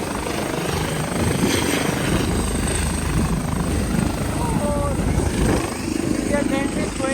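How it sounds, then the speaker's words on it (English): A helicopter's rotor chops and engine roar steadily and loudly, fairly close, holding the same level throughout, at an RCMP open house in Surrey, British Columbia. "Actually, the helicopter was so fast."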